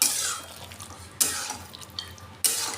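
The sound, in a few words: stirring pumpkin curry with peanuts and coconut in a pan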